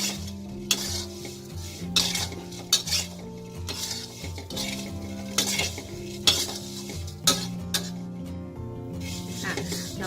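Small fried fish being stirred and spread with sugar in a pan, with a utensil scraping and clinking against the metal in repeated strokes over a steady soft sizzle, close and fairly loud.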